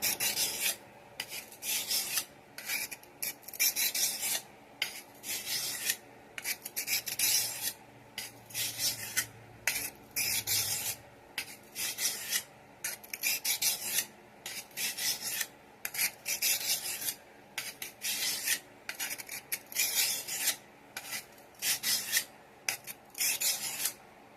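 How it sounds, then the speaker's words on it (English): A stainless steel survival knife blade is sharpened with steady rhythmic rasping strokes, loud and close, repeating in regular bursts with brief pauses between passes. "Being stainless steel, it's not too hard to sharpen back up for me."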